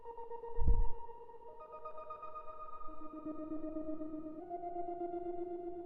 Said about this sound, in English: The next layer I added is a layer from my synth.